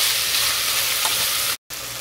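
Tomato and onion fry in hot oil with a loud, steady, close sizzle that drops out briefly near the end, cooked as a base for mutton biryani.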